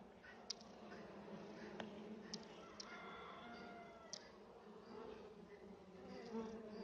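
Honey bees buzzing around an opened beehive during hive cleaning, a faint continuous drone with occasional small taps and clicks, very quiet and close.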